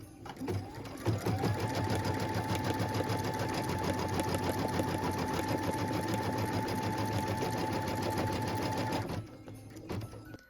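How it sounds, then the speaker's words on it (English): A sewing machine runs continuously for about nine seconds with a steady, even whirring hum and rapid needle rhythm, stitching a felt placement line in white thread, then stops. "we're going to stitch the O felt placement line next. So we can go ahead and stitch that"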